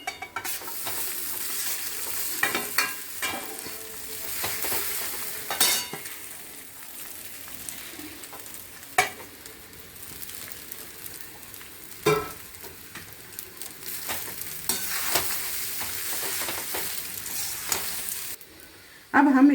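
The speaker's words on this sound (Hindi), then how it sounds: "अब हम इस चावल को सबसे पहले इसमें मिलाएंगे।" Boiled rice stirred into hot tempering in a pan for lemon rice, with a soft, steady sizzle and frying hiss under repeated scraping strokes and occasional spoon clinks against the pan.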